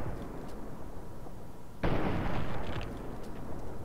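A single heavy, booming gunshot from the video game Fallout 3, breaking over a low rumbling background and trailing off in a long, rolling tail.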